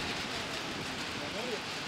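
Steady rain hisses in a dense, even wash of noise on a beach in Anapa, with no distinct drops or other sounds standing out.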